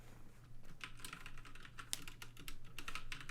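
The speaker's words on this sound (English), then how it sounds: "You just type it right in there." Typing on a computer keyboard, a quiet, close run of uneven key clicks with a few sharper taps over a low electrical hum.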